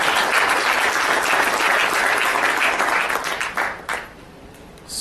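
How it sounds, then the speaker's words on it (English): An audience at a closing ceremony applauds the partner Laureus with dense, steady clapping for several seconds, then it thins into a few scattered claps and dies away. "a round of applause for Laureus as well."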